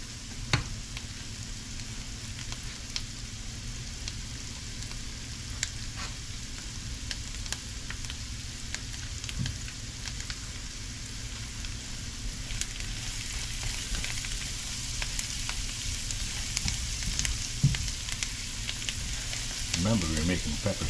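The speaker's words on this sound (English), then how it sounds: "let this onion caramelize for a little bit, and let the sprigs of thyme infuse the butter and the oil" Onion caramelizing in butter and oil with thyme sprigs gives a steady, soft sizzle and crackle in the pan, continuous and close for the whole stretch with no talking.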